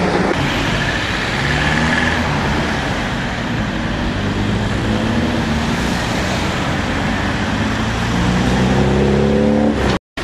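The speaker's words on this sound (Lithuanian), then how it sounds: "automobiliai, kaip matome, jie važiuoja tiesiai ir tai nesukelia jokių problemų" Cars and trucks driving through the Rinktinės and Savanorių avenue intersection in Vilnius, a loud continuous roar of engines and tyres with vehicles accelerating and passing close by, no talking.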